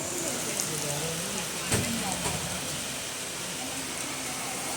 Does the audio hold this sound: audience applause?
no